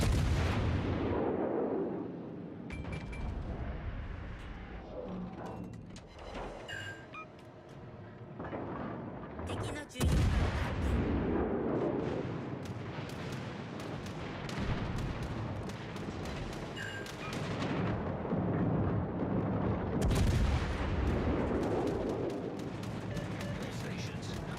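Naval guns fire on an enemy warship during a video game battle, repeated heavy booms and blasts rolling through a dense, loud mix, with voices talking over the barrage.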